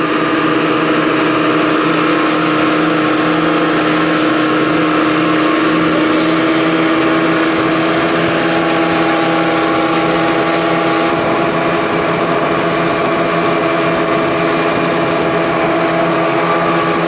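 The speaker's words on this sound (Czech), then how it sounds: "Dobrá zpráva, už běžejí všechny tři motory." Three outboard engines run together on a boat heading toward the Raja Ampat islands in Papua, a loud, steady droning roar that holds without a break and drowns out everything else.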